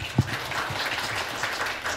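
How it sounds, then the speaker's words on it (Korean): Applause from the audience at a consumer forum on hair dye and cosmetic damage: a soft, diffuse patter of clapping, moderately distant, with one louder thump near the start. "다시 한번 큰 박수 부탁드리겠습니다"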